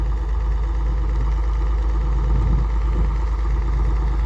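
A tractor engine runs steadily on a farm during springtime slurry work, a loud, continuous low rumble and drone at constant revs with a faint vibrating hum.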